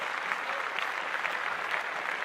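A small group claps steadily and briskly for a couple of seconds, moderately loud and without cheering.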